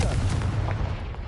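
The fiery Confringo spell detonates in the video game Hogwarts Legacy with a short, heavy, booming blast that has a strong low-end rumble and fills the brief moment alone.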